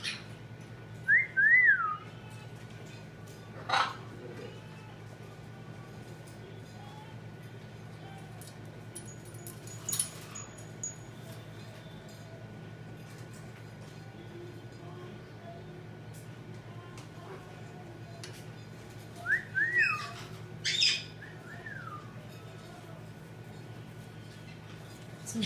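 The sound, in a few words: whistling and lovebird squeaking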